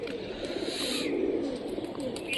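A feather-footed Mushki pigeon, green-checkered, coos softly and continuously, fairly close, amid light background noise.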